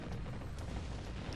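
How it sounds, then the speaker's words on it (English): Broadside 20-inch naval cannons fire in the Warship Gunner 2 video game, a continuous deep rumbling barrage of booms with faint scattered impacts layered over a steady low roar. "I'm going to start blowing the crap out of you with broadside cannons. Broadside 20-inch cannons."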